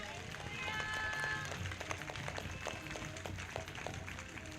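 A church congregation claps loudly at a Sunday prayer service, a dense, steady patter of many hands with a swell early on, while a voice speaks over it.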